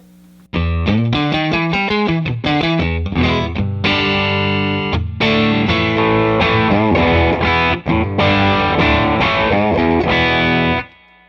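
Close, loud distorted electric guitar through a tube amp with the bright switch off strums chords and picks fast riffs, with a crunchy, saturated amp tone that ends abruptly.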